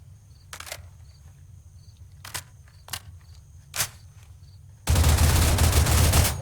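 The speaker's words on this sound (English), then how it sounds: "let's see what happens if we fire the entire magazine without stopping" An AR-15 rifle emptying a full magazine without stopping: a few sharp clicks, then one loud, dense, unbroken roar of rapid fire lasting about a second and a half, with no talking.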